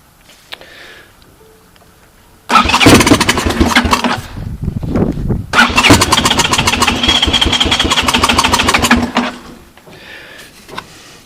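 A 1984 Honda TRX200 ATV with a carburetor in poor condition cold-starts after a few quiet seconds, then runs loud and rough with a steady mid-pitched putter for about seven seconds before dropping back to near silence.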